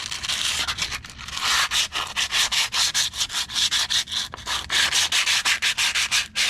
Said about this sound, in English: I scraped most of it off that I could easily. So I just taken sand this stuff.